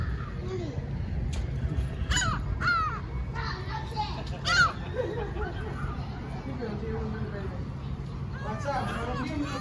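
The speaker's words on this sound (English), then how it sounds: "Look at all these birds." Crows caw repeatedly while waiting to be fed, several harsh calls scattered across the stretch, with people talking and general chatter underneath.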